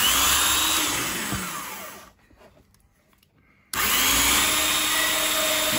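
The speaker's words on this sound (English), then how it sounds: "So I get my rotary file." A rotary file bores a hole through material while building a biltong dryer box, a loud steady grinding whir that runs for about two seconds, cuts out briefly, then resumes at full strength.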